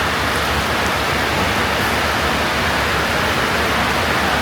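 Heavy rain falls in Vientiane, Laos, as a loud, dense, unbroken hiss with no let-up and no voices over it.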